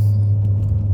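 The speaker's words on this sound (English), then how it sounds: "Wonder if you guys can hear the exhaust." A Jaguar S-Type idles with a steady, deep exhaust rumble close by, a low continuous drone with no talk over it.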